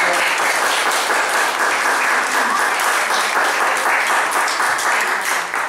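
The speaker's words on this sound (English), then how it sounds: "I want you to give yourselves a big round of applause" A school audience of elementary children in a gym or assembly hall breaks into loud, sustained applause, a thick wash of clapping that holds at a steady level with no voices on top.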